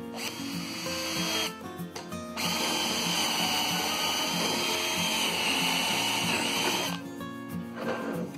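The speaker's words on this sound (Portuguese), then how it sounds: "vou furar lá um pouquinho" A power drill bores a hole in a sofa leg part for its screw, two sustained whirring bursts separated by a short pause, close and loud with no talk.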